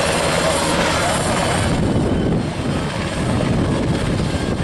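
A torpedo-armed military helicopter roars nearby at an air show, with a loud, steady rotor and engine drone that fills the entire stretch without pause.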